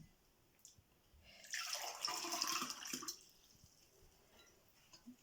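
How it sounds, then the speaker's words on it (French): Half a glass of water is poured into Moroccan thousand-hole crêpe batter, a soft, short splashing pour of about a second and a half, close and quiet. "Je vais ajouter la moitié d'un verre et voir si il faut encore un peu plus d'eau ou pas."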